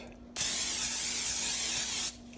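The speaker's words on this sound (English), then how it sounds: "I'm going to spray just a little bit of" A single sustained spray of anti-stick cooking spray for making candy, a steady close hiss lasting under two seconds before cutting off.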